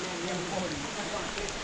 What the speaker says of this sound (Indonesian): Sudah hujan di sini.